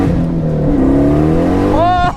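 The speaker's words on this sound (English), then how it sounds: "2006 Pontiac Slowstice is one of the most ridiculous and one of the fastest cars I've ever driven" A 700hp 2006 Pontiac Solstice engine revs loud and close, its pitch climbing steadily and then surging sharply near the end.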